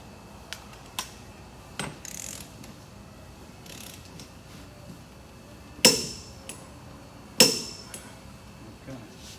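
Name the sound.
wrench torquing Honda Civic rear wheel bearing nut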